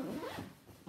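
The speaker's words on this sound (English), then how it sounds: "don't get the gusset stuck in the zipper" A zipper on a small Jujube MiniBe bag is drawn shut in one quick, continuous scratchy pull, close and fairly soft.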